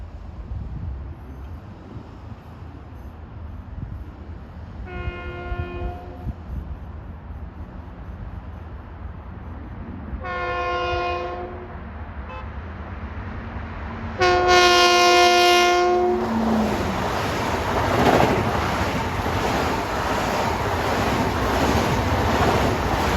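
An LIRR M7 electric train, number 2068 on the Grand Central to Ronkonkoma express, sounds three long horn blasts, then roars loudly past with sustained rumble and wheel noise, no talk.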